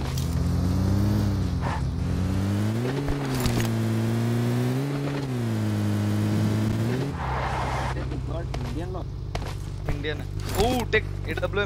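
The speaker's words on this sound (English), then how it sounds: "We'll take their vehicle." A vehicle drives in Call of Duty Mobile, its engine a steady, loud drone with rising and falling pitch for about seven seconds before fading under other game noises and clicks, with people talking over it.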